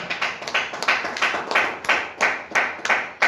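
A church congregation claps to acclaim the Lord: a steady, rhythmic run of about a dozen crisp group claps, fairly close, with no voices over them.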